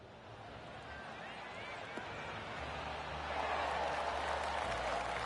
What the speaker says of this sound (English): We heard some applause a little while ago.